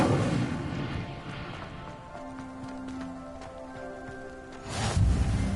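A fire spell cast in Hogwarts Legacy bursts with a crackling, rain-like roar that settles into a steady hiss with a low tone, then swells again in a second loud whoosh near the end.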